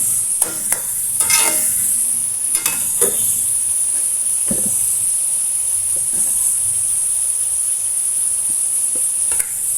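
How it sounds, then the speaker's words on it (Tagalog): Tomatoes sautéing in a home kitchen pan give a steady close sizzle and hiss throughout, with a few scraping stir clicks and utensil knocks near the start. "Igisa natin ito hanggang sa medyo lumambot."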